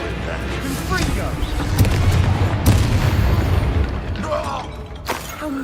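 A Confringo explosive spell goes off in Hogwarts Legacy, throwing out a loud, rumbling boom that swells and fades over several seconds, with sharp cracks mixed in and speech around it.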